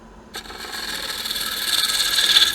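A roughing gouge cuts into a spinning wooden bowl blank on a lathe, a close, continuous rasping scrape that begins abruptly and swells louder over a couple of seconds.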